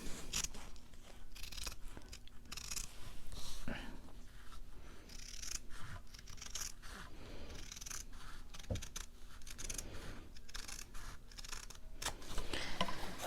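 Scissors cutting fabric for a Valentine's journal cover, repeated close snips and crunchy slices in an irregular steady run over a faint hum.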